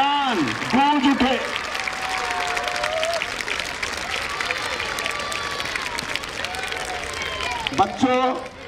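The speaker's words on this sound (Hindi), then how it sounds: "जोरदार तालियां बजाओ कि ये पूरा मैदान गूंज उठे।" Schoolchildren at an annual sports day clap loudly across the open ground, a broad continuous wash of applause from a large crowd, with an amplified voice speaking over it at the start and end.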